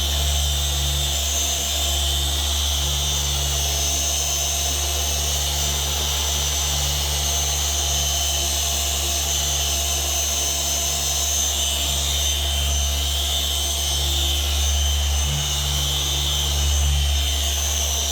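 Car paint polisher running steadily on a car's painted panel, a continuous loud motor whine and hum with a high tonal drone, holding constant throughout with no speech.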